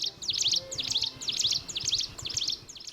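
A prinia calling, either a plain or jungle prinia, repeating a rapid high chirping phrase about five times in a steady rhythm, close and clear over a faint low background hum.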